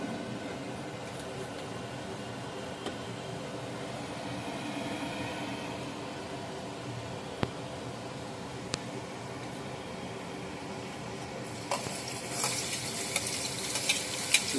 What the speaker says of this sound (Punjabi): ਤੇਲ ਆਪਣਾ ਗਰਮ ਹੋ ਗਿਆ ਇਹਦੇ ਛੋਟਾ ਅੱਧਾ ਚਮਚ ਆਪਾਂ ਜੀਰਾ ਪਾਵਾਂਗੇ